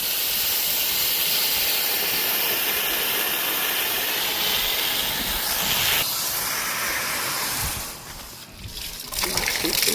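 A pressure washer sprays a steady, loud hissing jet of water to rinse an air conditioner condenser outdoors, continuous and close, with a brief dip near the end as the spray shifts.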